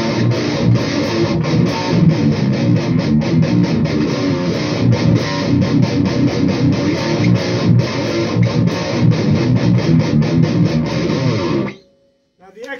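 A 7-string guitar played through the Butcher channel of a Peavey Vypyr VIP 2 amp, giving heavily distorted, dense riffing that stays loud and continuous for about twelve seconds before stopping abruptly.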